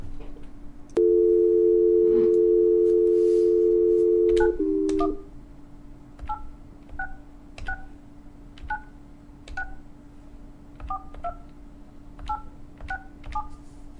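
A landline dial tone holds steady for a few seconds, then a rapid series of touch-tone keypad beeps follows as a call is placed to Hostgator's phone support, all heard clearly with no talking.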